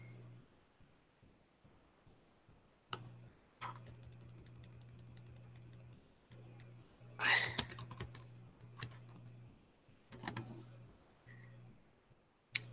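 Typing on a computer keyboard during an algebra math lab session, with clusters of quick key clicks separated by pauses and sharper isolated taps, heard close and fairly quiet over a steady low hum.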